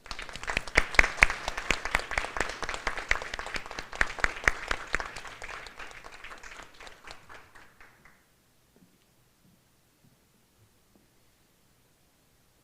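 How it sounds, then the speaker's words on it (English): Applause for graduates at a Class of 2021 summer commencement ceremony, a dense burst of clapping that thins out and fades to silence after about eight seconds. "Please honor all of our graduates with a round of applause."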